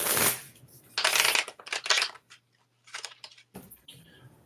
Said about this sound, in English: One shuffle, one cut.